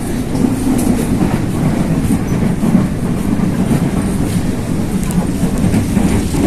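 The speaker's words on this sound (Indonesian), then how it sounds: "Kita ngikutin laju kereta." A commuter train between Universitas Indonesia Depok and Bogor stations rumbles steadily along the rails, wheels clacking in a continuous loud roar close by.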